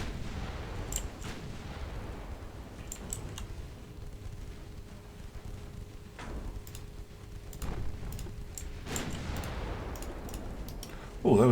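Naval gunfire hits landing in the warship game Ultimate Admiral Dreadnoughts, heard as scattered sharp booms and cracks over a low rumbling battle bed, fairly quiet, with a brief burst of voice at the very end.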